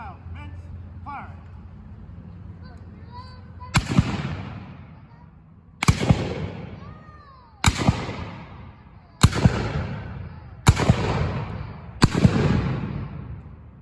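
Six Civil War muskets fire one after another by file in an outdoor demonstration, sharp loud blasts spaced roughly one to two seconds apart, each trailing a rumbling echo, with a commander's voice calling out before the volley begins.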